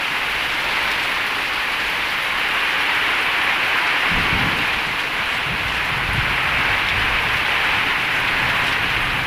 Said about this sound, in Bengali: এই যে বৃষ্টি হইতেছে প্রচুর বৃষ্টি তুফান সাথে সাথে আছে